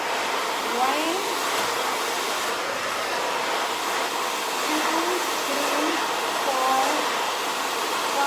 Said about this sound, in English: This is the way you blow dry the hair.